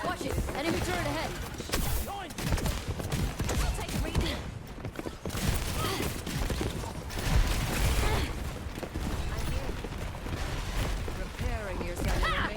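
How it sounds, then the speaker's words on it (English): Rapid mechanical gunfire from an enemy turret in Overwatch 2, a dense continuous clatter of shots and impacts running throughout, mixed with game effects and voices talking over it. "Enemy turret ahead."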